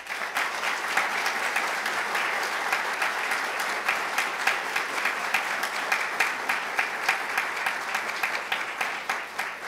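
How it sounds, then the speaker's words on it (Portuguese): A round of applause at a military historical institute ceremony honoring award recipients, sustained clapping from a crowd of people that continues for nearly ten seconds, with individual claps standing out toward the end. "Solicitamos aos agraciados uma salva de palmas."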